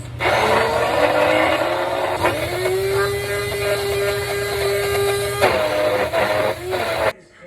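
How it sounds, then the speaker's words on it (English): An immersion blender whirs steadily while blending cottage cheese into a sauce in a bowl, a close, continuous motor hum that shifts slightly in pitch as it works, then stops abruptly. "I'm using my immersion blender to blend it all together and make the cheese sauce"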